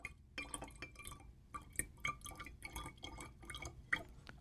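Water is poured into a glass volumetric flask in a lab, heard as a quiet run of irregular drips and small splashes with faint glassy clinks, close by and with no talking.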